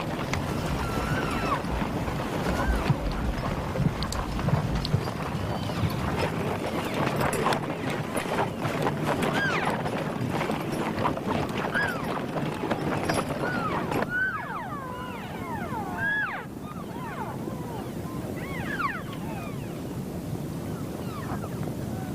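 Horse-drawn sleighs hauling hay to wintering elk near Grand Teton, with steady hoof clip-clop and runner noise across a busy outdoor soundscape, dense at first, then thinning into scattered calls and softer movement.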